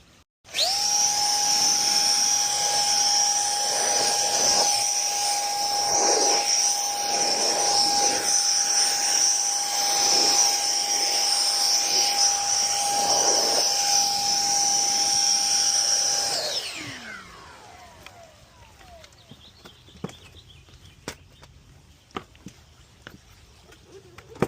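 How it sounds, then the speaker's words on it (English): An air gun blasts water off a car being dried before a ceramic coating, a loud steady high-pitched rushing whine lasting about sixteen seconds before cutting off and winding down, followed by a few faint clicks. "I grab the air gun again"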